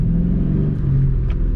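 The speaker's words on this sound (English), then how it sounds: "taking off, you can tell that there is an exhaust" A 2003 Ford Mustang GT fitted with a Magnaflow exhaust pulls away, its deep engine rumble and exhaust note loud and steady from start to finish.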